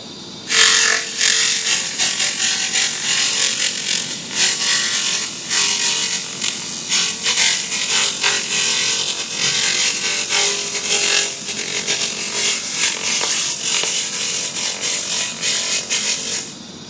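Handheld laser cleaner stripping a surface at half power, giving a continuous loud hissing, crackling buzz with rapid fluctuating bursts that runs steadily and close for the whole stretch, with no voices.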